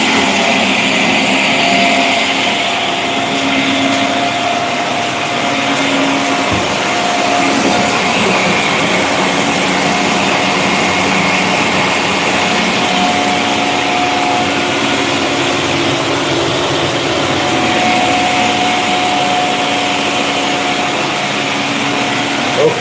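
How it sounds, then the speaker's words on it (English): A blender runs loud and continuous indoors, a steady whirring roar with a constant motor whine that holds for over twenty seconds without pause. "Quickly gonna get the blender running,"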